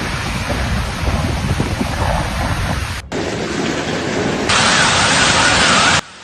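Heavy rain pours steadily through a storm in northern Italy, a dense, loud roar of downpour spliced from several segments, with thunder rumble low beneath; no one speaks.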